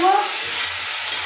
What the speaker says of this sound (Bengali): সবজিগুলো দিয়ে নিলাম, নিয়ে একটু ভাজে নেব